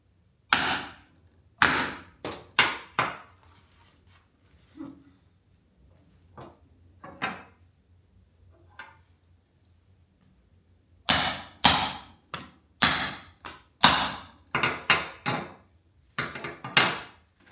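Glass in a picture frame is struck repeatedly with a hammer under tissue paper, sharp loud knocks in irregular bursts with quiet gaps, clustering densely near the end.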